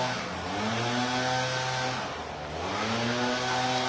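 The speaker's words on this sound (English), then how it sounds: "The dreaded leaf blower is back, says Anne Montgomery." A petrol leaf blower drones steadily outdoors at a farm, a close, continuous engine whine that swells and dips in pitch as it is throttled, with no voices over it.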